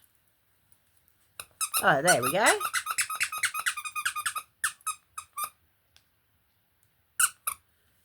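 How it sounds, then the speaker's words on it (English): A squeaky rubber duck dog toy squeezed repeatedly, giving a long wheezing squeal followed by a quick run of short squeaks, then a few isolated squeaks and a final pair; a voice speaks briefly. "It is a dog toy, so if you've got dogs, I'm going to squeak it."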